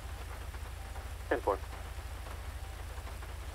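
Steady rain falls in a GTA roleplay game, a constant dense patter heard close and fairly loud throughout, with a brief spoken exchange over it.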